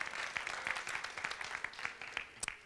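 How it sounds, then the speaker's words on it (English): Scattered audience applause at a talk, a modest round of distinct claps from a small crowd, fairly faint and uneven. "sure, we can applaud, it was awesome."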